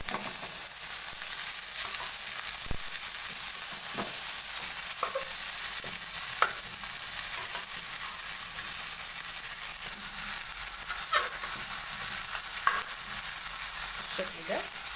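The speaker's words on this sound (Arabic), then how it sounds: "هبدأ دلوقتي بقى احط قطع الفراخ اللي انا اديتها الصدمه" Chicken pieces that were briefly blanched sizzle in a pan for a ketchup chicken dish, a steady close frying hiss broken by occasional clinks and stirring knocks, with no talk.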